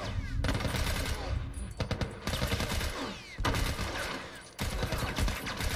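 Gunfire in The Last of Us Remastered crackles in dense, rapid bursts of loud shots, broken by short pauses, up close and continuous across the scene.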